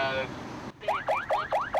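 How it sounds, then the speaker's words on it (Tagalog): A car alarm in the North Reclamation Area of Cebu sounds with repeated rising-falling electronic whoops, loud and close, after a brief stretch of other noise at the start. "Isang trouble alarm ang nirespondihan ng CSU sa may North Reclamation Area."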